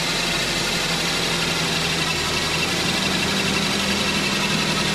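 2007 Nissan X Trail engine idling with the air conditioning running and a boggy air con clutch, a steady loud mid-pitched rumble with constant vibration and no breaks.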